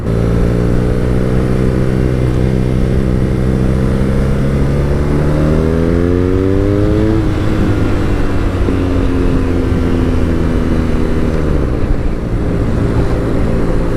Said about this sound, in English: You can hear his baffle rattling.